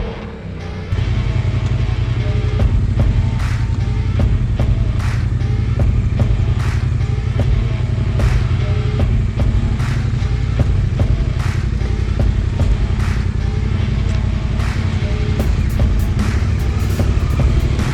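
Adventure motorcycles ride a tricky track in Tasmania, a steady loud engine drone running throughout with repeated rises in revs and brief louder bursts, close and continuous.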